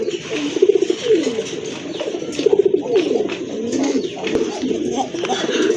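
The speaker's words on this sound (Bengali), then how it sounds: "সামনেটা হচ্ছে মাদি, পেছনেরটা কিন্তু নর কবুতর" A pair of pigeons, one female and one male, coo continuously and up close in soft repeating throaty phrases over a low background hum.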